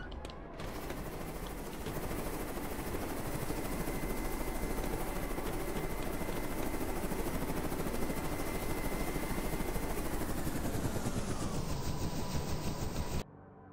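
Razorbill helicopter in Carrier Command 2 flying in, a steady, loud rotor drone with rapid chopping pulses held for over thirteen seconds before cutting off abruptly.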